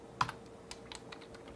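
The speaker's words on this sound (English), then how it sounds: "I hate typing live on stream" Quiet keystrokes on a computer keyboard, a handful of irregular soft clicks with one sharper press near the start, over a faint electrical hum.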